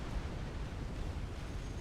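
Rumbling explosions in the real-time strategy game Supreme Commander: Forged Alliance, a dense, continuous low roar of blasts and crackle with no clear gaps, steady and loud throughout.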